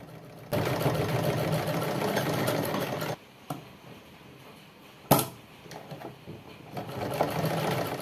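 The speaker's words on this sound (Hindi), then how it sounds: "जहाँ से हमारी कटिंग थी वहाँ से हम इसे इस तरीके से करते हुए इस पर सिलाई लगा देंगे" A sewing machine stitches old cloth into a small organiser bag, a loud steady motor whir with rapid needle clatter that stops abruptly, pauses with a sharp knock, then resumes more softly.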